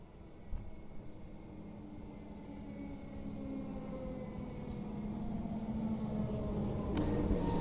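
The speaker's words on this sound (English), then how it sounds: "My train here at Seaholme Station has finally just arrived." A train rumbles into Seaholme Station on the Laverton line, growing steadily louder and nearer, with a low mechanical drone and faint high squeals toward the end.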